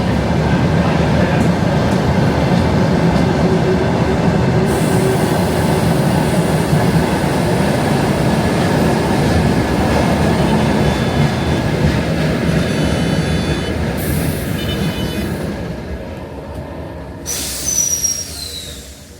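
A train for Kaunas rumbles past close by at a station with loud, steady clattering and faint squealing wheels, the noise slowly easing off near the end.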